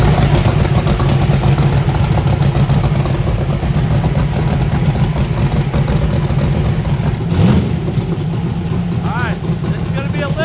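A 5,000 horsepower Eagle engine making a pull on a hub dyno, a loud continuous roar that holds steady throughout with a brief surge partway through, close and dominant.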